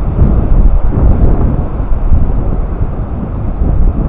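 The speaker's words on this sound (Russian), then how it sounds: "ну все равно ветер-то бушует" Strong wind roars across a Black Sea beach at Anapa after a storm, a loud steady buffeting rumble hitting the microphone without pause, with no voices.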